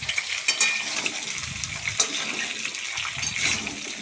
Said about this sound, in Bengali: আমটা দিয়ে আমি নাড়াচাড়া করছি।